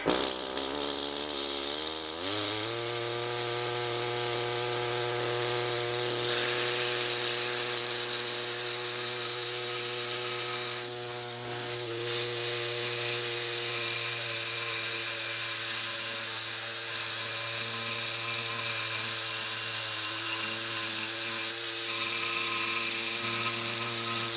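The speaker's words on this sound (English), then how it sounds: "I'm going to take this chisel bit and just see if that comes off." Air-powered chisel bit buzzing steadily against hard limestone matrix on a 98-million-year-old pycnodont fossil fish from Lebanon, a continuous loud whine with rattling that shifts slightly in pitch but never stops, no talking.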